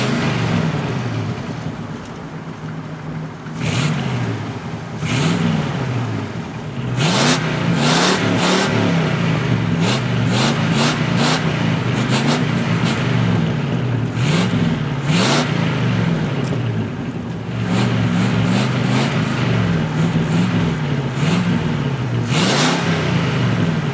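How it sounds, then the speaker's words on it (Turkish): A white 1964 Cadillac Eldorado V8 runs steadily nearby with the hood open, a smooth, fairly quiet engine note holding throughout with a few rises and repeated light revs. "motorumuzun sesi öyle alışık olduğumuz gürül gürül çok yüksek Amerikan otomobilleri sesleri gibi değil"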